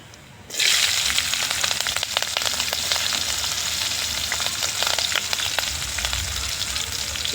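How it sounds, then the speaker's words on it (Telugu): Cumin seeds and green chillies drop into hot oil, setting off a sudden loud, crackling sizzle that stays steady and close for several seconds, with no voices. "నూనె కాలింది కొంచెం అంతా జీలకర్ర వేస్తాను ఇప్పుడు ఇంట్లో పచ్చిమిరపకాయలు వేస్తుందా"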